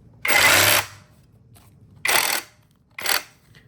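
A cordless, heavy-duty portable electric bag closer stitches a bag shut in three loud, close bursts, the first one longest and the next two short, with quiet pauses between them and no talking.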